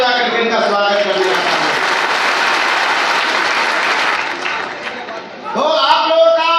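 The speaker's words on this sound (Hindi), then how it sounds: "इनके लिए आप ताली बजा करके इनका स्वागत करिए।" A crowd at a Sant Ravidas Jayanti celebration claps to welcome honoured guests, a dense burst of applause that swells and holds, then fades as a voice over the loudspeaker starts talking near the end.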